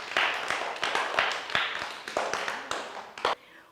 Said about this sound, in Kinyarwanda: Nimwihe amashyi menshi cyane.